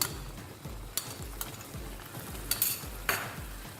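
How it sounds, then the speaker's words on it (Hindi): Mutton keema and capsicum stirred in a pan, a spoon scraping in a steady repeated rhythm over a soft sizzle, with a few sharper knocks against the pan, close and unaccompanied by talk. "मैंने शिमला मिर्च और कीमा को मिक्स कर दिया है"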